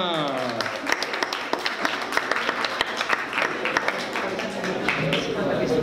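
Scattered hand claps ring out over loud, excited voices, a lively mix of clapping and chatter from a group.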